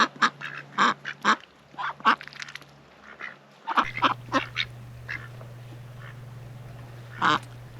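Ducks on a homestead quack in quick, raspy bursts while foraging in grass and weeds near a pond, several calls overlapping close by over a low steady hum.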